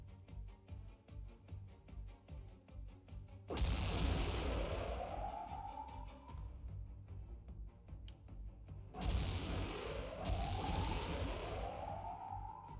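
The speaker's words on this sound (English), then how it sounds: "they shoot them torpedoes really fast, don't they?" Torpedoes launching in Xenonauts 2 air combat, three loud whooshing blasts, each trailing off with a rising whine, over a low engine drone.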